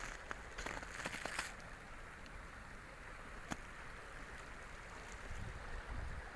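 Steady broadband wash of a river flowing beside a field with trees and benches, continuous and moderately close, with a few brief knocks early on.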